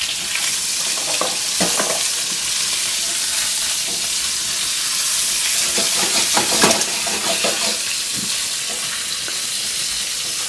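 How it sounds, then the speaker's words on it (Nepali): Chilly momos stir-frying on high flame in a pan, a loud continuous sizzle with scraping stirs and bursts of steam, close up and without speech. "यसलाई हाई फ्लेममा पकाउने"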